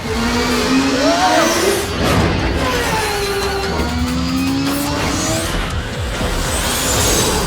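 Engine roar of a turbo bike racing in a Max Steel cartoon, a loud continuous whine that rises and falls in pitch with tire squeals and skids layered over it.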